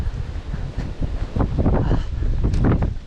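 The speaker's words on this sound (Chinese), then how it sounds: "这大风大浪的" Strong wind roars across the microphone at a rainy shoreline during a fishing outing, with big waves surging and crashing underneath in a continuous, loud wash.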